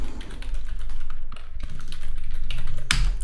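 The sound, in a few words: typing on a computer keyboard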